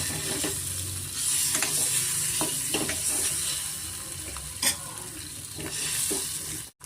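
Eggs fry over medium heat for green egg curry, with a continuous close sizzle broken by repeated scraping strokes of a spatula stirring the pan. Nobody speaks.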